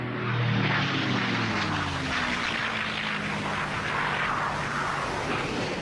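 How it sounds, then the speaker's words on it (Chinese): A low-flying US torpedo bomber, an old, slow propeller aircraft, drones past with a throbbing engine whose pitch sinks as it passes, a steady roaring sweep that stays moderately loud throughout. "他们遭到了低空飞行的美军鱼雷轰炸机的袭击。"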